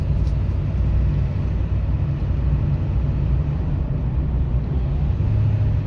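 Steady low diesel drone from a 2002 Ford F250 7.3L 4WD truck engine while driving in third gear, a constant rumble with road noise and no talk.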